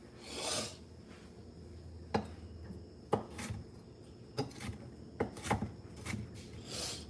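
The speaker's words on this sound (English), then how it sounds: "right now, I'm just chopping up the bell peppers" A knife chops bell peppers on a cutting board in a home kitchen making crawfish étouffée, with about half a dozen sharp, close taps spaced irregularly over quiet background and soft rustles.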